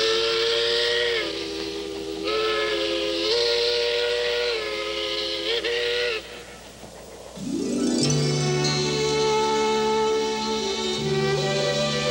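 A steam locomotive whistle blows in two long, chord-like blasts with hissing steam, followed by another sustained, lower whistle tone, loud and close with no talking.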